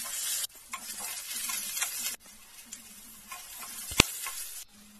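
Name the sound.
potatoes frying in hot mustard oil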